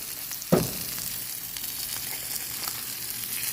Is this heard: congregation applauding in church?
no